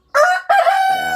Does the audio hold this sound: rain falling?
no